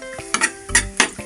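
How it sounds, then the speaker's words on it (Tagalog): Onion and garlic fry in hot oil, a short burst of sizzling broken by clinks and scrapes of a utensil against the pan. "ipa-fry ko na muna itong sibuyas ay bawang"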